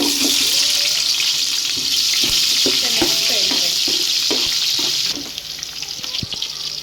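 Onions and whole spices fry in ghee in a pan for mushroom biryani, making a loud, constant hiss with a string of sharp spoon clicks as they are stirred. The sizzle softens near the end.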